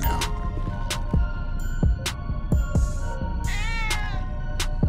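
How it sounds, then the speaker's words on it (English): A cat meows several times in short, rising calls near the microphone, mixed with repeated thumping beats and a low background hum, no talk. "Oh, I have a cat on me now."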